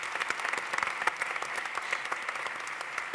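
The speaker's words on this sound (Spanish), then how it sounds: "Vamos a dar ese aplauso que me gusta dar a una mesa" Audience applause for a panel discussion at a defence conference on space, a steady sustained clapping from a crowd heard alone for the whole stretch.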